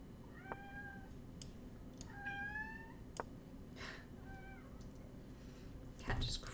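A cat meows repeatedly in the background, giving several drawn-out, plaintive cries spread across the stretch. A few sharp clicks and a low background hum come in between the cries, and the cries sit at a moderate distance.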